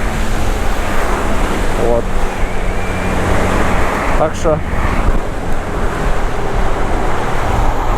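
A Suzuki Address V125 G scooter rides along a road, its engine buried in heavy wind rush and road noise, a constant loud roar around a rider who speaks briefly.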